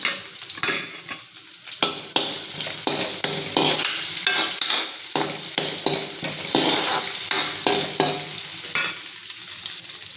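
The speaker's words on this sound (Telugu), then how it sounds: "కొంచెం మామిడికాయ ముక్కలు వేస్తున్నాను, దాని మీద కొంచెం ఆనియన్స్, కొంచెం పచ్చిమిరపకాయలు" Mango pieces, onions and green chillies fry in a pan, a steady close sizzle broken by repeated scraping stirs and light clinks of a utensil against the pan, with no voices.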